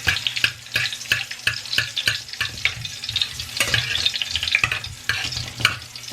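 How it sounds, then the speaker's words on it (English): Jalapeno frying in a pan, heard as a bright, crackling sizzle broken by a quick, steady run of sharp spatula scrapes and clicks, close and fairly loud throughout. "And then just gonna fry up this jalapeno."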